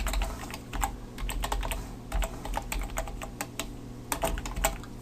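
Rapid, uneven keystrokes on a computer keyboard, close and fairly loud, clicking in bursts with brief pauses over a steady low hum.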